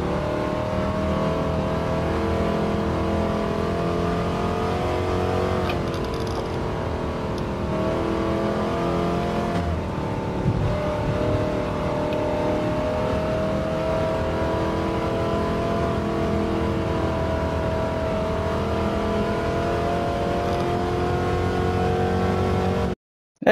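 A 1969 De Tomaso Mangusta in stock form with racing tires, driven in a racing video game, its engine droning loud and continuous with shifting pitch as it revs and changes gears, then cutting off abruptly at the end.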